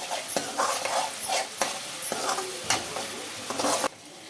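A chicken mixture stirred in a hot pan, with a spoon scraping and clacking several times over a constant sizzle, close and loud, no talk.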